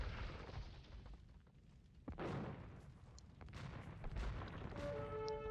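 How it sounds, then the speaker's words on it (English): Bombard cannon fire in a real-time strategy game during a tournament match, heard as sharp booming impacts around two seconds and again near the end, set within a dense mix of battle sounds and effects. "Nice bombard cannon shot there from Shark."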